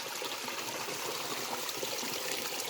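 Water flowing steadily in a small rural creek, a steady broadband rush and trickle continuing without pause.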